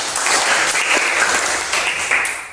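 Classroom of students clapping together in a steady, dense burst of applause, loud and close, running throughout with no talk.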